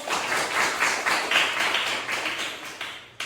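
A classroom full of students claps together for several seconds in a dense, steady burst of applause close by, with hand taps rising and falling before it cuts off abruptly near the end.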